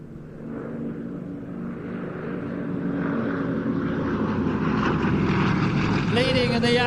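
A Yak 18T propeller aircraft drones steadily at the Old Buckenham airshow, its engine growing louder as it nears, with a commentator talking over it throughout.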